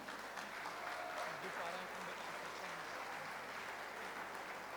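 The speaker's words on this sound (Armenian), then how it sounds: "եկեք մի հատ Լուսինեին ու իր սիրուն ընտանիքին բարձր ծափահարենք" Wedding guests applauding in a hall, a dense, even wash of clapping from a crowd held at moderate distance for several seconds.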